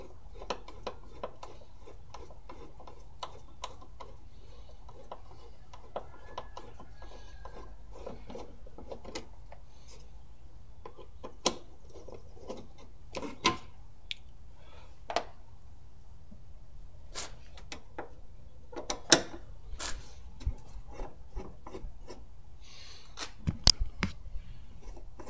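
A ratchet works on automotive parts, giving sparse mechanical clicks and clanks over a quiet background, with sharper metallic taps clustering later in the sequence.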